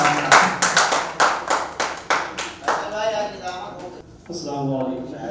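Rhythmic, distinct hand claps ring out at a Lucknow mushaira, an Urdu poetry gathering, welcoming the poet. The clapping then thins and gives way to someone speaking.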